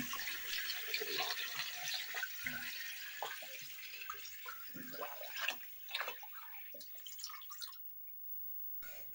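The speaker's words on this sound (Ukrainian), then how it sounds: "Заливаємо холодною водою, щоб покрило м'ясо." Steady splashing and gushing of cold water poured into a pot over pig head meat, continuous and close, tapering off toward the end.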